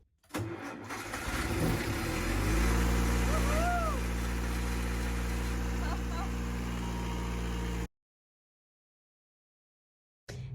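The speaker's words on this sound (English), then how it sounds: "I'm going to clean it up with some WD-40 and start the engine." A sailboat's engine cranks and catches after being cleaned with WD-40, then runs at a loud, steady idle close by for several seconds before cutting off abruptly.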